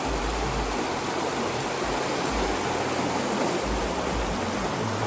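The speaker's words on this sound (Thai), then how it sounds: "ลำธารนี่สวยมากเลยนะ" Rushing stream water pours continuously, a dense, even splashing roar with no pauses or voices.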